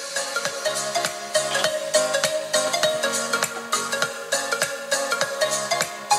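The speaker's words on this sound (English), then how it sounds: "Alright, so I'm going to start her out at a quarter volume." NuVending NuBoom Bluetooth speaker playing music at quarter volume, a steady beat with layered tones and a rhythmic low pulse running throughout, fairly close and continuous.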